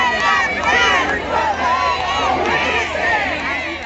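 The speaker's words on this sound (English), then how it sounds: "The crowd is big" A big crowd at a rally roars and cheers continuously, a loud, dense wash of many voices with shouts rising and falling throughout.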